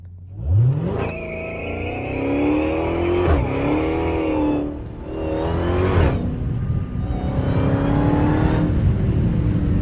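A Dodge Hellcat on worn summer tires revs hard on wet winter roads, its loud engine rising and falling through several long pulls in close, continuous bursts.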